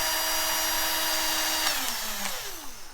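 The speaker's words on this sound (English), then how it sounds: "I tend to use a cordless drill or a cordless screwdriver." A cordless drill drives bolts into a full tang knife handle, a loud continuous whirring motor whose pitch drops as the bolt tightens and the tool slows near the end.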